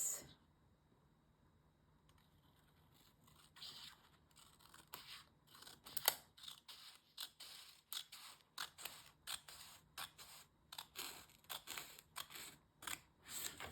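Paper is snipped with scissors for a planner, a quiet start giving way to a long run of rapid crisp cuts and clicks, close and alone with no talk.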